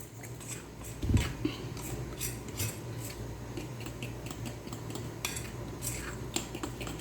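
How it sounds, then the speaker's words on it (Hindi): A spoon stirring sponge cake batter made with flour in a bowl, giving soft, repeated scraping and clinking strokes at close range with one louder knock near the start. "इस तरीके से हमने एक ही रो में ये चमचा हिलाना है"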